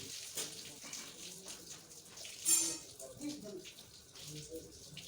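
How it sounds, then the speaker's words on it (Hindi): Water runs into a bucket of soapy laundry water made with detergent powder, a soft, uneven splashing with gurgles and a brief louder gush midway, fairly quiet, with someone talking at times. "ये भर गया बाल्टा पूरा।"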